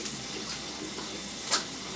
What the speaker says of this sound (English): Just adding water like that